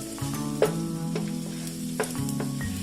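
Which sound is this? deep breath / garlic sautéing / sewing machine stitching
garlic sautéing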